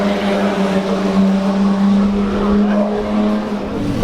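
A Ford GT40 race car on a hot lap at the Goodwood Revival roars loud and close with a sustained engine drone, its pitch shifting slightly over a steady snarl.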